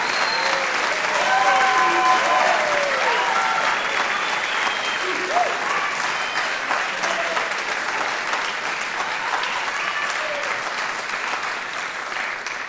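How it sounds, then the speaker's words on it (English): Steady audience applause rings out at a high school National Honor Society induction ceremony for the new inductees, a dense continuous clatter of many hands that tapers gently near the end, with cheering voices mixed in. "Please give one more round of applause for all the new inductees."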